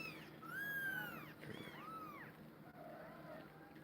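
Young kittens give high, squeaky meows in several short rising-and-falling calls, close and fairly soft, with a few faint background sounds between them.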